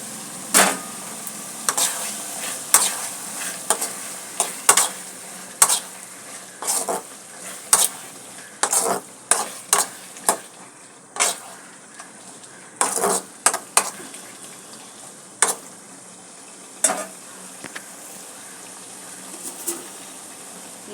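Tomato, onion, drumstick and potato are stirred in a pan over a soft steady sizzle, with repeated sharp scrapes and clinks of a spoon against the metal, fairly close and without talking.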